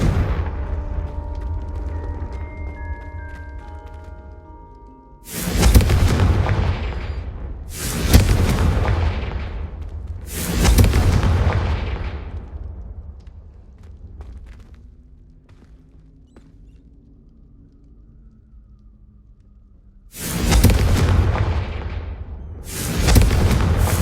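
Confringo fire spell explosions in the video game Hogwarts Legacy on PS5: five heavy booming blasts, each with a long rumbling decay, loud and close, spaced irregularly with quieter rumble between.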